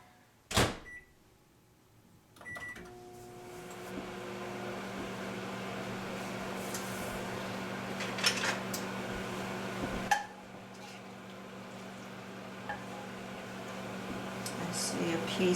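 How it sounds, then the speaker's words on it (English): A microwave oven warming tortillas on high hums steadily after a door clunk and button beeps, with a low drone and a few clinks over it. "we're going to microwave this on high for about 30 seconds just to warm the tortillas"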